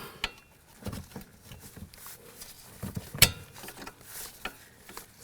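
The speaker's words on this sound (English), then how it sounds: "Torque the nuts to 103 foot-pounds." A torque wrench tightens the front strut nuts to 103 foot-pounds on a 2004-08 Nissan Maxima, giving scattered quiet ratcheting clicks and metallic taps close by, with one sharp louder click midway. No one speaks.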